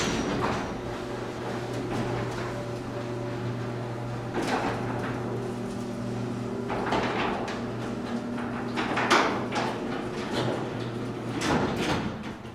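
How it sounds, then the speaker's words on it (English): A chain drive garage door opener runs, giving off a steady, fairly quiet mechanical hum with a constant whine and faint clunks, heard alone with no talking. "let's give you a run-up of just how quiet the garage door is now"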